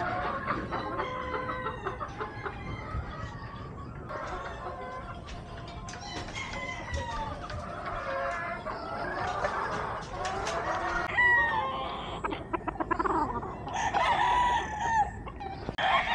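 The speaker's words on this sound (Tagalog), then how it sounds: "Ito po isang imported Asil broodcock around maybe 6 years old." Roosters at a breeding farm, including an imported Asil broodcock about six years old, crow and cluck repeatedly, several birds overlapping at near and middle distance over a low background murmur.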